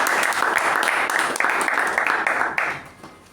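Applause from a room of members at a Toastmasters meeting, a dense, steady wash of clapping that carries on strongly for about two and a half seconds before tapering off toward the end.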